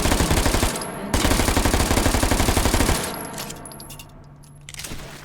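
A progressive-trigger gun fires in the VR shooter H3VR: two loud, rapid automatic bursts of evenly spaced shots, the first briefly interrupted, then the firing stops and fades into quieter game ambience.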